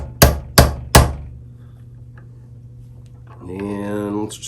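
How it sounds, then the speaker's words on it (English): Three sharp, loud hammer taps in quick succession driving bridge barrels into a Fender Jaguar guitar, followed by a quiet stretch and then a brief tonal ringing scrape near the end. "I'm going to take my trusty hammer"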